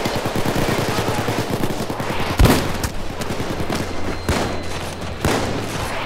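Sustained automatic gunfire in the heist game PayDay 2, a fast steady rattle of shots with a few louder booming impacts standing out, continuous and close throughout.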